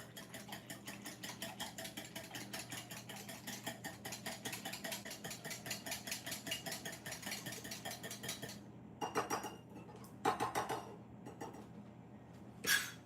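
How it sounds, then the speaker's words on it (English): Wet cake batter for a moist vanilla cake, with room-temperature ingredients and milk, whisked in a bowl: a steady, rapid rhythmic clinking of the whisk against the bowl, fairly close, fading to a few scattered clinks and taps near the end. "And then I'm going to whisk it."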